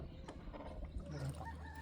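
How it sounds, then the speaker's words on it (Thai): Chickens cluck softly amid a busy background of rustling and low noise, with a few short calls rising over the steady din. "ไก่"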